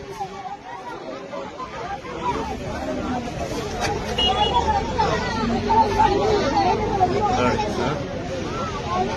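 An outdoor crowd at a bus and bike accident scene murmurs and chatters, many overlapping voices forming a dense babble that grows slightly louder over time.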